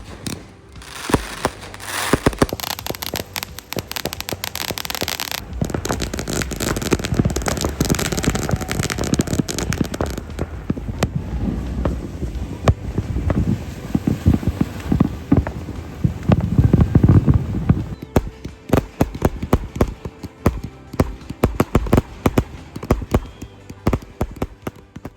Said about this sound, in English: we headed to Tamarin Beach to enjoy the firework displays